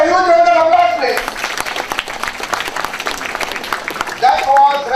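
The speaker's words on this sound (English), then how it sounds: "Give her a huge round of applause" Audience applause at a 2018 Amrita University event, a dense burst of clapping lasting about three seconds, bracketed by a speaker's voice talking before and after it.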